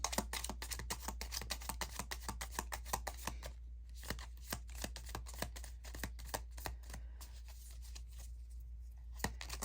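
Tarot cards are shuffled by hand in a quiet room, a rapid run of crisp riffling flicks and light slaps that continues steadily throughout with brief pauses, close and clear, no talking.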